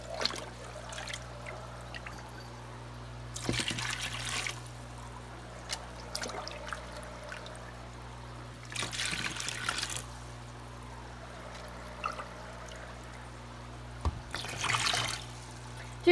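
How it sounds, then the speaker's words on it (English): Water is poured from a cup back into a plastic tote during a water change for axolotl babies, giving three separate short splashing pours spaced several seconds apart over a quiet, low hum. "and I pour it back into the tote."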